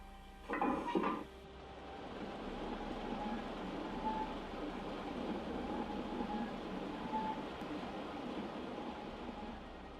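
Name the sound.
train of scrap wagons passing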